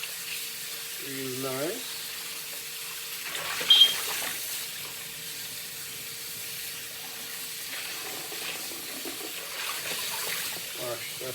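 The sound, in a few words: tap water running while washing fresh mackerel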